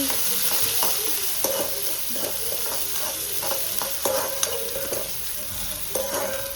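Capsicum, chili, carrot and cabbage are stir-fried with onions in a hot pan. A steady, loud sizzle runs underneath while a spatula scrapes and taps the pan in repeated irregular strokes.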